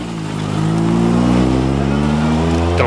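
A 1995 Renault Clio Maxi rally car with wide wheels and large brakes, its engine droning loudly and rising in revs as it pulls away, harmonic engine tones strong and close.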